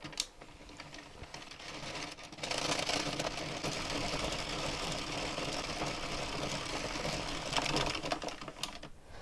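An Addi Express Pro knitting machine knits rounds of blue yarn, a continuous close mechanical whirring and clattering of needles and crank that starts after a couple of seconds and runs steadily with no voices.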